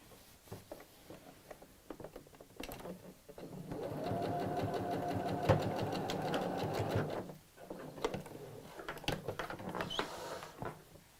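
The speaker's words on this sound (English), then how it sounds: "And then we'll sew across." A sewing machine stitching across a tote bag, a steady whirring hum of a few seconds, near and alone, with softer handling clicks before and after.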